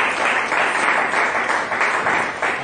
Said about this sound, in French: Donnons une forte acclamation.